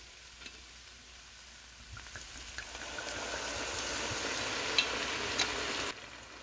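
A roux for crab bisque cooks in a pan with a gentle, steady sizzle that builds slightly louder over several seconds, close up and with no voices, then cuts off abruptly near the end.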